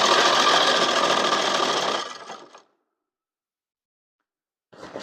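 Sewing machine stitching along the hem of a pair of jeans, a loud steady mechanical whir for about two seconds that tapers off and stops, followed by silence and then a brief restart near the end.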